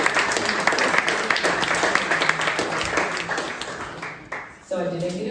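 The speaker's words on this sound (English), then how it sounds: "if we can give a round of applause to these panelists doing phenomenal work" Audience clapping for panelists at a Cleveland market equity event, loud and dense at first, then thinning and fading before a voice starts talking near the end.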